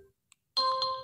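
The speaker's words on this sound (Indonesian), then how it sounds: "alarm," After a brief silence, an Infinix Zero 5G 2023 phone's alarm tone sounds, a bright electronic, sustained chiming melody starting abruptly and playing close and clear.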